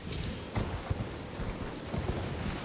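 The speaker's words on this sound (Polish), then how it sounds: "Ten koń nazywa się Struga. Torrent." Hooves of the horse Torrent in the video game Elden Ring clop steadily in a quiet, even trotting rhythm across the whole stretch, soft and close with faint ambient background.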